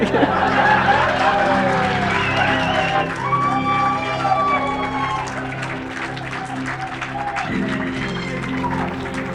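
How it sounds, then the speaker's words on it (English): Guests at an El Encanto wedding clap during a toast, with close applause mixed with laughter and murmured chatter that fades slightly but continues throughout. "You can clap if you want"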